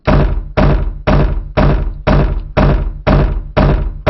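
Door sound effect from the video game Manamon, a loud, close thunking knock repeated eight times in an even rhythm about twice per second, each hit heavy and short with a quick fade.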